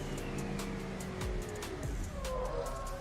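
A car in BeamNG skids under the handbrake, its engine droning beneath a short tire squeal and scrub with sliding pitch changes, quiet and brief.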